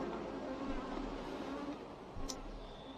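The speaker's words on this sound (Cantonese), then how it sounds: "無敵毒黃蜂！" Cartoon buzzing of a poisonous hornet, a steady insect drone held for about three seconds over a busy, noisy background, swelling slightly near the end.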